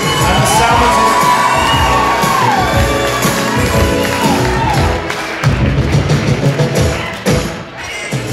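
Loud theatre audience at the Belfast Empire cheering, whooping and shouting over clapping, with a high rising whistle-like whoop early on and rowdy crowd noise rolling on to the end.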